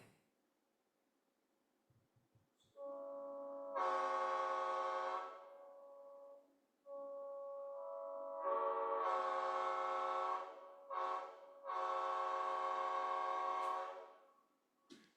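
A multi-chime train air horn sounds in long, loud chord blasts, with short breaks and a couple of quick toots, ringing out alone.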